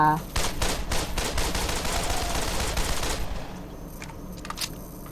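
Rapid bursts of gunfire from the World War II shooter game Code of Honor, loud and dense for about three seconds before easing into a few scattered, quieter shots.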